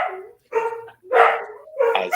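A pet dog barks three or four sharp times in quick succession indoors, loud and close, with short gaps between barks and no talk over them.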